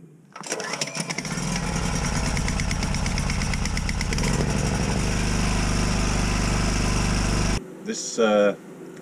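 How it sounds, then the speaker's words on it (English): A small generator cranks, catches and settles into a loud, steady running drone for several seconds, then cuts out abruptly, followed by a brief burst of other noise. "let's get the generator going"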